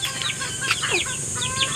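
Hen clucking as she prepares to lay an egg, with a run of repeated squawky clucks and cackles close by over a background of other farm chickens.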